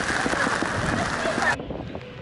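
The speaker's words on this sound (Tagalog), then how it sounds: "Lakas ng ulan, bumabagyo." Heavy rain pours down during a storm at an outdoor theme park, a dense, steady hiss with wind buffeting the microphone, loud and close, cutting off abruptly near the end.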